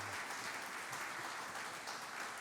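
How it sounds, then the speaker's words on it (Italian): A distant, fairly faint audience applauds a maestro at a Piedmontese singing performance, a steady, dense patter of clapping with no voices. "Facciamo un applauso al grande maestro Valiero Chiovarelli."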